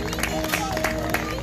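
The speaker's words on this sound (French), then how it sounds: "Sous vos applaudissements, s'il vous plaît." Loud, sustained applause from a crowd at a graduation ceremony, dense clapping with some cheering mixed in, filling the space without pause.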